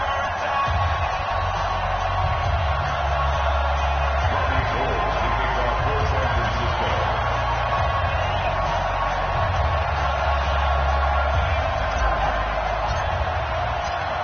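A Baltimore stadium crowd in a PS4 American football game, Ravens against the 49ers, gives a steady, dense roar of approval that holds unbroken at a constant level throughout.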